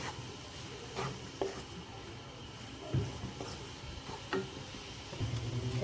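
Sheera, a semolina pudding with melting sugar, cooks in a pan with a soft steady sizzle, broken by a few distinct scrapes and knocks of stirring, close and moderately quiet, with no talking.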